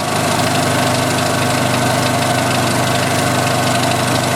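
A 1986 Jeep Cherokee engine running under load, with the headlights on and the blower motor on full, gives a loud, steady, close drone with a constant fan-like whoosh throughout and no speech.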